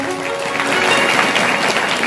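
Loud, sustained clapping from a crowd at a devotional kirtan performance, building after a brief held musical tone and continuing steadily throughout.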